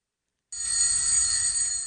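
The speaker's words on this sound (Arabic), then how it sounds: "alarm clock rings" A morning alarm clock starts ringing after a brief silence, a steady, bright electronic ring that holds continuously to the end, close and clear.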